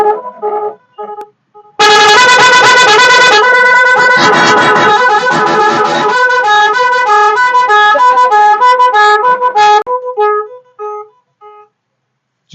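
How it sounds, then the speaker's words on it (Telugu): Loud heavy bike horns demonstrated one after another: a few short toots, then a long sustained multi-tone blare that shifts into rapid pulsing musical patterns before ending in scattered short honks. "ఈ హార్న్స్ చాలా హెవీ సౌండ్స్ వస్తాయి."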